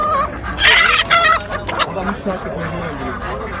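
A rooster and chickens squawk and cackle close by in a noisy cluster at a poultry market in Kırıkkale, Turkey, with harsh honking calls rising and falling amid a busy background murmur.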